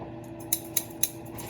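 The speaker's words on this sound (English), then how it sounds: "Real scissors, sharpen with a hand file, and they're deadly." Three crisp scissor snips, evenly spaced, close and clear against a quiet background.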